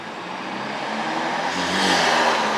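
A car doing laps at a Texas car meet, a steady whirring engine drone that swells louder toward the end as it passes nearer, no talk over it.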